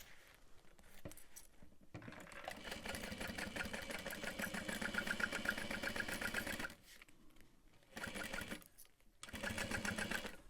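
A sewing machine bastes down a backpack handle, running in long steady stitching bursts with short pauses between, close and moderately loud, with no talking.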